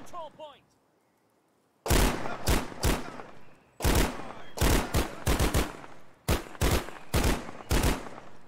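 Gun firing in the video game KARMA, with rapid loud bursts of close shots in several clusters after a brief quiet start, each crack sharp with a short decay.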